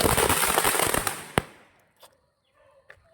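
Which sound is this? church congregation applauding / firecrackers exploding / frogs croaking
firecrackers exploding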